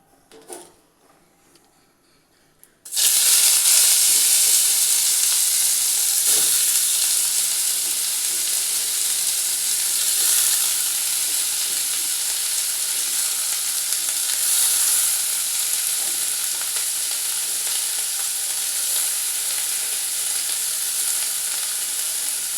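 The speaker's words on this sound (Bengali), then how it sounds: "এবার আমি পেঁয়াজগুলো দিয়ে দিচ্ছি।" Onions dropped into hot oil in a wok, after a few quiet seconds a sudden loud, dense hiss bursts in and keeps up as a steady, intense sizzle, close and alone.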